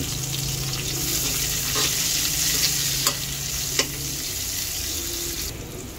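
Onions sautéing in a pan for chop suey give a steady, close sizzle and crackle throughout, with a few brief utensil scrapes as they are stirred; no one speaks.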